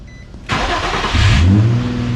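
An Infiniti G35 engine cranks with a newly replaced starter and catches after a short quiet moment, then revs up and settles into a smooth, close running idle.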